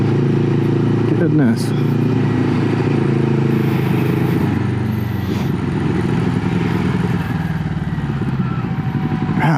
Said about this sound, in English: they're setting up some kind of little moped race